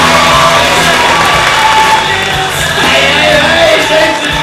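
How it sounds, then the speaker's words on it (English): A comedy club audience cheers, whoops and claps loudly after a stand-up set ends, a dense crowd roar that holds steady, with a brief dip partway through. "Big round of applause."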